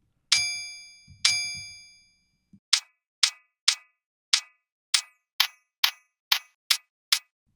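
A garden sound recording processed to mimic a hi-hat: two ringing metallic hits with long tails, then about ten short, bright, crisp ticks in a steady even rhythm, close and clean with no talking.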